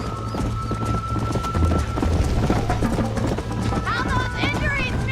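A horse gallops in the Red Dead Redemption video game, rapid rhythmic hoofbeats drumming continuously up close, with voices talking over the gallop.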